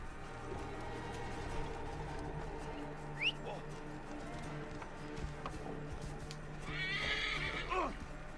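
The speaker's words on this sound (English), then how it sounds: "I'm gonna call my horse when we get out of here." A horse in a video game, ancient Egyptian setting, neighs with a brief high whinny over a steady bed of hoofbeats and ambient game noise, followed later by a louder, longer whinny near the end.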